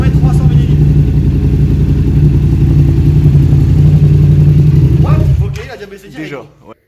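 A Yamaha MT-07 motorcycle engine with fresh oil after an oil change idles steadily and loudly up close for about five seconds, then cuts off, leaving a few faint clatters and handling noises.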